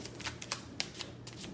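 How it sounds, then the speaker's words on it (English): A deck of tarot cards being shuffled by hand: a quick run of several soft papery riffles and flicks, close and fairly quiet, with no speech. "I'm just shuffling up these cards quick"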